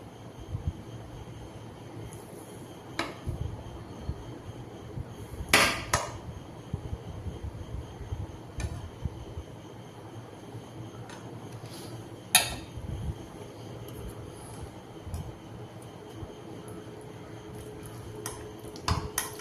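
A soft milk powder junnu sweet being cut into pieces, with a few sharp knife or utensil taps against a plate or pan standing out over a quiet kitchen background, and no talking.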